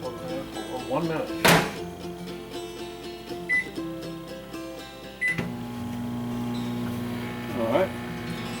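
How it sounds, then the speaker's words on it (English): A microwave oven runs while heating Cajun-style scrambled eggs with crawfish in a microwave bowl. It gives a steady close hum, with a couple of short electronic beeps and a dull thunk partway through. "Microwave for 1 minute."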